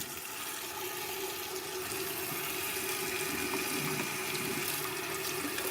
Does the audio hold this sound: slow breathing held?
no